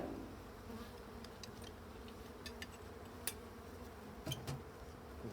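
A colony of black honey bees hums in a steady, close drone, with individual bees buzzing past now and then over the continuous background hum.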